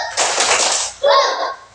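Children in a classroom chanting and clapping in a rhythmic counting clap game, loud and close, with a burst of clapping and voices followed by a second short chanted phrase.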